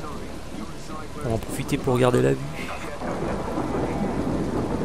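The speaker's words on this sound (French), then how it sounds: "Il pleut. Normal, on est en Angleterre" Steady rain and a rumble of thunder fill a scene in the video game Splinter Cell: Blacklist, set in England, with someone talking over the downpour.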